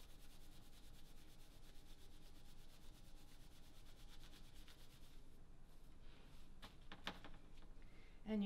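Wet felt rubbed against itself by hand in a felting craft workshop, a steady close scrubbing swish that continues for several seconds, with a few light knocks toward the end.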